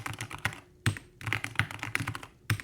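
Keys clack on a Keychron K2 HE keyboard in irregular bursts of quick taps with short pauses between, close and fairly quiet, with no voices.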